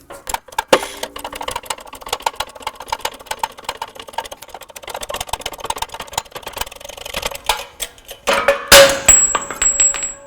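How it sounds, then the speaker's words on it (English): A press pushes the front wheel bearing out of the hub on a 2009-13 Mazda 3: rapid mechanical ticking and creaking runs steadily, then a few sharp metallic clicks and a louder pop near the end, with no talking. "line it up so it's nice and even with the actual press itself, and then let's start pressing it down"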